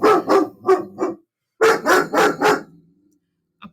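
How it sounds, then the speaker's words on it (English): Excited dogs bark indoors, close and loud, in two quick runs of sharp barks: four, then four more after a brief pause, ending in silence. "We're going to talk over top of the barking."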